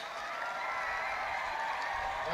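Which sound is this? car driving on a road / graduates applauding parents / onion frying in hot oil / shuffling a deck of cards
graduates applauding parents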